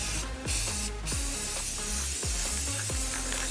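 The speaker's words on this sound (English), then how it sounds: "I'm gonna hit this fender with another coat real quick." Spray paint hisses onto a car fender in a steady close burst with two brief pauses near the start, broadband and continuous, with no talking.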